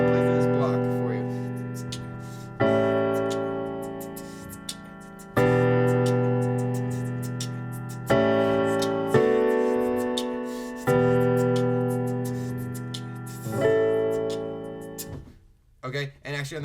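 Piano playing a block of a song, sustained chords struck about every two to three seconds and left ringing, with a short burst of talking at the very end.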